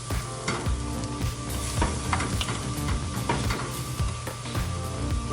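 Chopped onions stirred into dry wine in a pan, a loud, steady sizzle with repeated close scraping and clinking strokes of the spoon against the pan.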